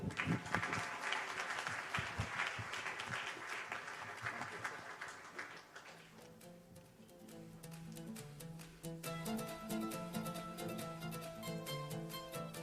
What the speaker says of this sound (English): a huge round of applause for our next speaker this evening